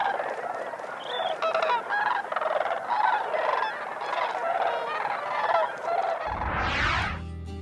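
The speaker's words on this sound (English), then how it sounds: "An unforgettable sight for those lucky enough to witness the sandhill cranes take flight." A flock of sandhill cranes calls as the birds take flight, a dense, continuous chorus of rolling, honking bugles near and loud, with a final call sweeping upward before a buzzy tail.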